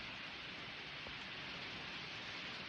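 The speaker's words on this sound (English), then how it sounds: "Pouring down raining out there." Heavy rain pouring down outside, a steady dense hiss with no breaks or voices, fairly faint and even throughout.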